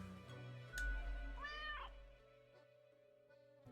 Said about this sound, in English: But the cat seems happy.